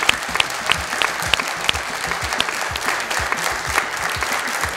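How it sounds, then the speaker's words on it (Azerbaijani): A concert audience claps steadily after a performance by music college students, a dense, even wash of hand claps with no voices on top, holding at a constant level throughout. "Ürəkdən alqışlayaq."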